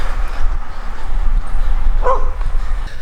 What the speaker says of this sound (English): There's a dog back here.